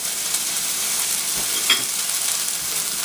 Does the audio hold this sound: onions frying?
yes